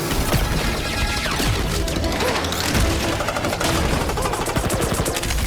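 Gunfire from Marvel's Guardians of the Galaxy combat, a dense, continuous barrage of rapid shots and impacts mixed with loud game effects throughout, with character voices calling out over the action.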